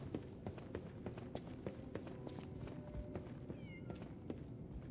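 A cat meows in the Lies of P video game, with faint, brief meow calls among steady rhythmic footsteps in the background, and no voices present.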